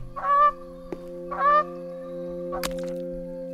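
Two honking goose calls in The Forest game, each about half a second long and well separated, the second followed by a short bright crack, all over a steady low electronic hum with no talking.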